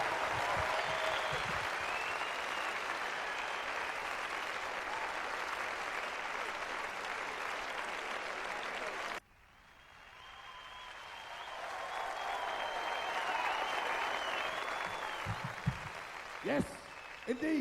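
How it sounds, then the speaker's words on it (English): A large audience at a Ben Elton stand-up comedy show applauds loudly and steadily, then the clapping dips briefly and swells back to full strength with some crowd noise. "we have no time for too much of this applause, much as I love it, much as I thank you for it"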